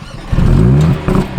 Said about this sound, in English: it starts the car up with lots of pops and bangs